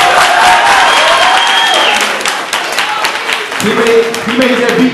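A live audience claps and cheers at a hip-hop show at Dowling's, a loud dense wash of applause that starts strong and holds for several seconds, with a voice and music tones rising near the end.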